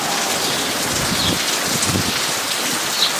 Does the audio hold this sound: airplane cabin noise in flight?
no